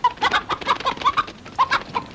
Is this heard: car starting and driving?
no